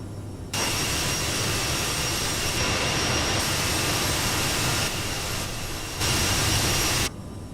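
SAS CRJ-900 jet engines in Microsoft Flight Simulator accelerating down the runway on takeoff, a dense continuous roar with a high whine, steady and loud from start to finish, cutting off abruptly near the end.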